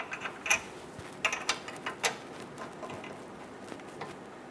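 Hand tools start the two rear lower control arm bolts into aluminum on a 2013-2017 Honda Accord, giving a few faint, scattered metallic clicks and ticks over a quiet background.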